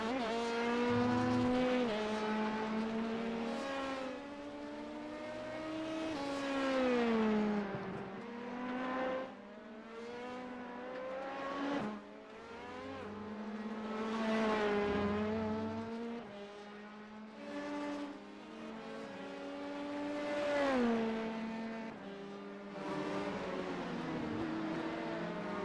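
An LMP2 race car laps the Zolder circuit during a 24-hour race, its engine rising and falling through repeated upshifts and downshifts, loud and continuous with no talk.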